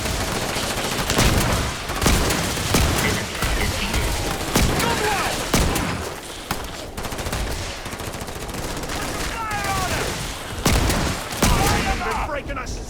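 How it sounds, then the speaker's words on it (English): Sustained gunfire in the video game Starfield during a firefight: dense, loud bursts of automatic weapons and rapid single shots stacked continuously, with voices calling out under the shooting. "What are they shooting at?"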